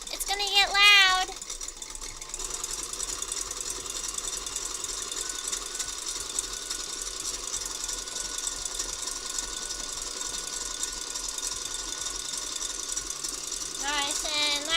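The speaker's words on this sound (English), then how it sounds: "Mixer ASMR." Electric mixer whipping cream for a lemon blueberry trifle, a loud continuous buzzing whir with rattling motor texture that runs nearly the whole time, with brief voiced sounds at the start and end.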